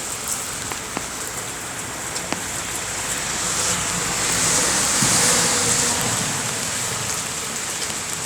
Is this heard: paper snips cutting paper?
no